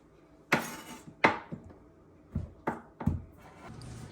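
Knife chopping zucchini, onion and tomato on a board in a home kitchen, a handful of sharp separate chops spaced irregularly, close and fairly loud over a quiet background.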